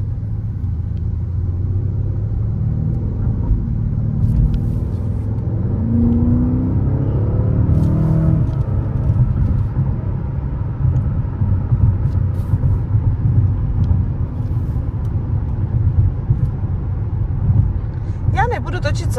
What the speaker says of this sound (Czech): Zase na to šlápnu a ono je to hned na 100.